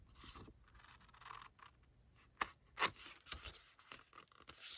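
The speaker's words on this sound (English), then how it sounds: "So I'm just going to cut this on an angle." Scissors cutting paper at an angle for a winter flower craft folio, a quiet close sequence of snips and scrapes with two sharper cuts midway, no talking.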